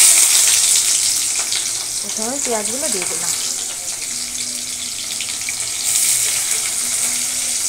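Onions fry in hot oil in a wok with a steady, close hissing sizzle throughout, while someone speaks briefly partway through.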